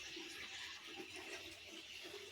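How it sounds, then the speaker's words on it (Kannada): Water flows steadily and continuously at a holy site in Bilagunji, Sagara taluk of Shivamogga district, a close, even rushing wash with no break and no talk. "ಅಲ್ಲಿಂದ ನೀರು"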